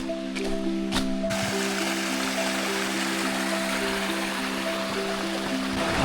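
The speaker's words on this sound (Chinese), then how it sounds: "旁边经常会有这种像现在这种小溪潺潺" A steady babble of flowing water from a small mountain stream beside a stone-slab trail on Tiantai Mountain, continuous and fairly close, with a faint hum underneath.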